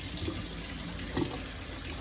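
Running tap water splashing over HRV filters being rinsed clean in a sink, a steady, close, continuous wash with soft squishing variation.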